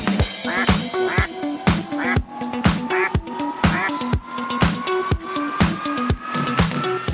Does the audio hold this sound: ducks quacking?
yes